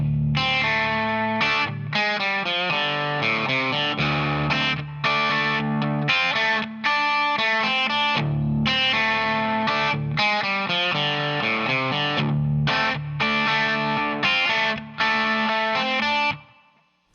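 Distorted electric guitar plays a choppy, rhythmic riff from a rock song, alternating between two variations with short stops between phrases, loud and up close.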